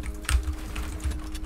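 Rapid key presses on a computer keyboard for a Fortnite side jump, a short flurry of soft clicks over light background hum.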